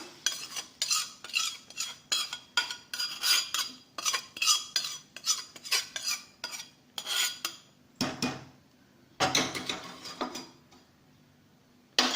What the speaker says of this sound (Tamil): இப்போ இந்த வத்த குழம்புல இதை கொட்டிடலாம்